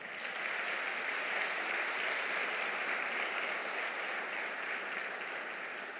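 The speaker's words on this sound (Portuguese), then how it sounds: "Vamos aplaudir Jesus pelos pais?" A church congregation applauds during a Brazilian Sunday celebration service, a continuous, even wash of many hands clapping that stays steady throughout and slowly softens near the close.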